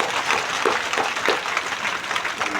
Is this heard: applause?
yes